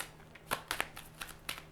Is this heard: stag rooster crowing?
no